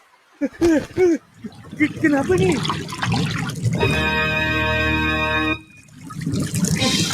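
A cartoon water leak sounds as a steady gushing, trickling stream for a couple of seconds, with animated voices exclaiming before and after it.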